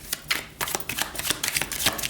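A deck of tarot cards being shuffled by hand, with quick papery riffles and slaps arriving in rapid irregular bursts, close and clear with no talking.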